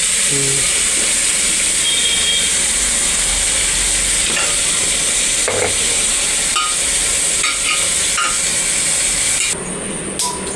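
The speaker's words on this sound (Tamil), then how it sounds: "வெங்காயம், புதினா, பச்சை மிளகா போட்டு வதக்கியாச்சு." Onion, mint and green chili frying for biryani give a steady, loud sizzle and hiss with occasional stirring clatter, continuous and close throughout with no talk.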